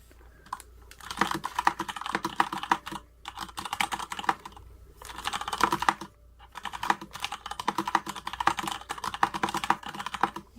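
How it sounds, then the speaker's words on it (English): Rapid clacky typing on a DURGOD mechanical keyboard comes in bursts of keystrokes separated by short pauses, close and crisp, with no talking. "It sounds exactly like a retro keyboard actually"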